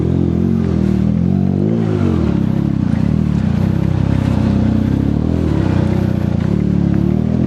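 A motorcycle rides through dense traffic in a heavy rainstorm, its steady engine drone and hiss of pouring rain loud and continuous throughout, with vehicle rumble mixed in and no speech.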